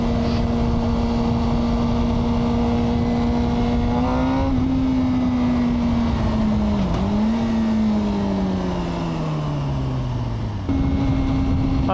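A Suzuki GSX-R motorcycle engine on the road, a loud, steady drone that climbs through the revs, dips at gear changes and settles back, heard close from the rider's position, with wind noise over it.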